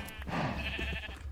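In-game sheep in Minecraft give a bleat, followed by a few quieter bleats. The calls are fairly close and clear, with no voices over them.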